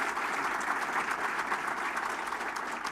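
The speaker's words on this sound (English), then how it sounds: "let's give them a round of applause as well" An audience at a State of the City event in Bloomington breaks into a steady round of clapping that stays even and sustained for a few seconds.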